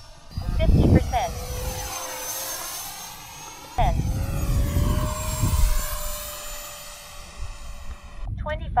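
Distant RC model F-22 jet flying at a field, its steady engine whine sustained throughout with a gradual rising tone, under people talking.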